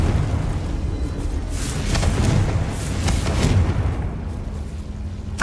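Spell explosions from the Confringo fire spell in Hogwarts Legacy, a steady run of rumbling, crackling blasts that merge into a continuous loud roar with no clear gaps.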